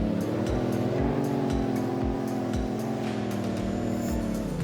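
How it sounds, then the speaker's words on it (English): A truck engine in the video game BeamNG revs hard and holds high, a steady droning whine with a rhythmic low thumping underneath, loud and continuous. "This truck sounds absolutely mean as it's revving its head off"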